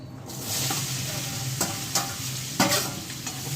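Green chilli pickle with red chilli powder, turmeric and salt is stirred in a hot pan, a soft steady sizzle broken by several scraping spoon strokes, close and with no talking.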